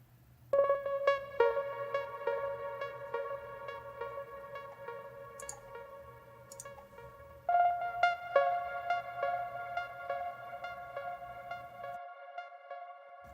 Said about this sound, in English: it has a lot of delay to it as well, and it's a tremolo pluck sort of.